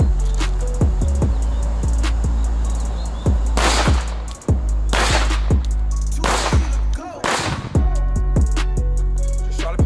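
Pistol shots fired at targets during accuracy training, several sharp loud cracks spaced unevenly over continuous background noise, with quick follow-up pairs.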